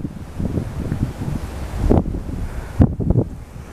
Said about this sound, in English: I mean, you can probably hear the amount of wind.